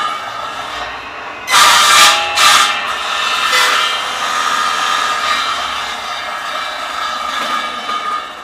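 A power saw cuts joint slots in a wooden piece, a loud steady high whine that rises sharply as the blade bites into the wood, then holds a sustained buzzing drone.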